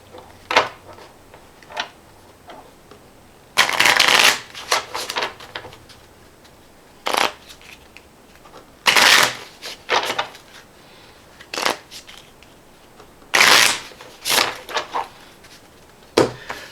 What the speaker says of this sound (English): you are going to mix the rest of your rewards into your deck